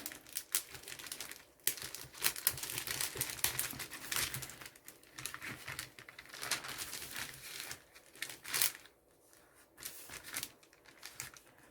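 Napkin rice paper being peeled off a surface coated with straight Mod Podge, close crinkling and tearing crackles in uneven bursts with brief pauses.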